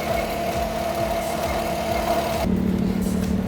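A 2019 Lotus Exige Cup 430 engine idles with a steady, loud mechanical drone that drops in tone partway through.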